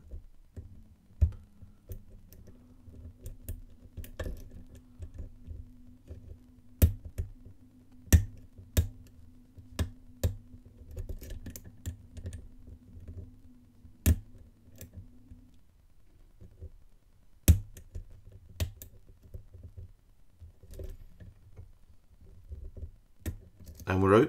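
Sparse, sharp metallic clicks and ticks of pins being worked inside a lock during lock picking, scattered irregularly over a quiet low hum, close up with light rustling between.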